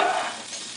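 Pot stickers fry in a hot pan to crisp their bottom crust, giving a brief, bright sizzle that starts loud and fades quickly, with no voices over it.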